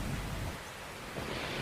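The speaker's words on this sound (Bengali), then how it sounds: "হঠাৎ বিদ্যুৎ চমকালো।" A storm sound effect of steady rain hiss with low rolling thunder swelling at the start and again near the end, fairly faint and continuous.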